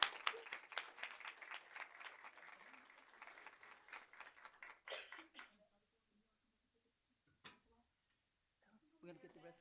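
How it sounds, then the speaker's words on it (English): At a school board meeting, a modest room of people applauds for about five seconds in brisk, uneven claps, then quiets to near silence broken by a single knock and soft murmuring voices. "Let's give her a round of applause."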